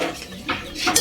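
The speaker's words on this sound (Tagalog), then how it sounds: "Mix natin ng mabuti para ma-dissolve yung mga powder na yon." A spoon stirs seasoning powder into a breakfast mixture, giving a few short clinks and scraping swirls against the bowl, close and moderately loud with no talk.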